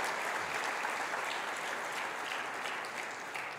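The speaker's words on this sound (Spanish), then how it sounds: "¿Podemos darle fuerte ese aplauso al Señor," A church congregation claps together in praise to the Lord during a sermon: a sustained wash of applause that holds fairly steady, moderately distant and fading a little at the end.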